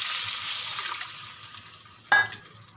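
Water pours into a pan of pea dal and sizzles steadily, then fades. A sharp scrape of stirring follows near the end. All of it sounds close-up, and no one speaks.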